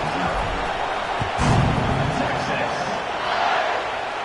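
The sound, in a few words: football stadium crowd cheering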